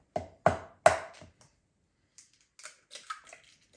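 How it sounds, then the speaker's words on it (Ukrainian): Three eggs cracked one after another into a container of sour cream for a broccoli casserole: three sharp close cracks, then softer scattered wet taps and drips. "Сюди вбиваю 3 яйця."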